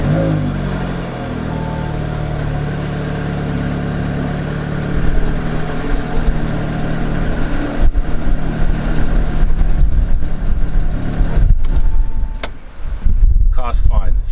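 An Audi S3 starts up and runs, a steady close engine drone that rises partway through with revving, while people talk over it.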